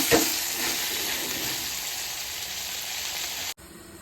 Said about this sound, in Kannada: ಸೊ ಈ ಥರ ನಾವು 15 ರಿಂದ 20 ನಿಮಿಷ ಮೀಡಿಯಮ್ ಫ್ಲೇವರಲ್ಲಿ ಫ್ರೈ ಮಾಡ್ಕೊಳ್ತಾನೆ ಇರಬೇಕಾಗುತ್ತೆ